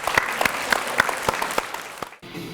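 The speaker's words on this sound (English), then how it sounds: "Big round of applause." An audience gives a round of applause after an inspirational motocross talk, a dense patter with a few sharp louder claps standing out, cutting off abruptly near the end into quieter room sound.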